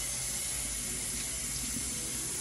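Seasoning ingredients rinsed under a running kitchen tap, a steady, loud rush of water that runs continuously without a break.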